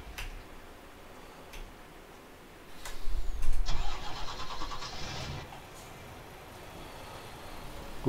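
A tractor or farm vehicle engine starting up in Farming Simulator 19, with a brief cranking rumble followed by a steady mid-pitched engine tone that lasts a couple of seconds and then settles, heard over a faint rainy ambience with no talking.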